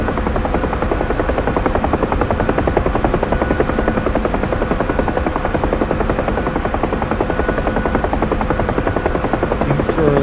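Helicopter in a flight video game cruising at steady speed, a continuous close rotor thump and engine buzz droning evenly throughout without pause.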